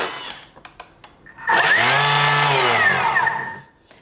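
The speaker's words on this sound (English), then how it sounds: "just pop the lid on and then just put it on to speed 9 for a couple of seconds" Thermomix kitchen machine spinning scone dough at speed 9: a few soft taps, then a loud, high whirring motor burst lasting about two seconds that winds down, close and alone.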